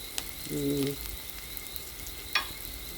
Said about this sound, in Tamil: இப்போ இவங்க அழகாக வதங்கிட்டு இருக்காங்க பாருங்கள்